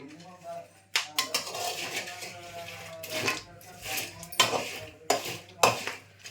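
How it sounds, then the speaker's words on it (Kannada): Raw peanuts being roasted in a pan, with repeated close scraping and clinking of a utensil against the metal, irregular stirring strokes under a voice talking. "ಹಸಿ ಶೇಂಗಾನೇ ಅಂತೀವಿ ನಾವು ಸೊ ಇದನ್ನು ಹುರಿತಾ ಇದ್ದೀನಿ"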